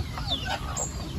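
Chickens cluck in short bursts over a steady low hum, close by, with no speech over the calls.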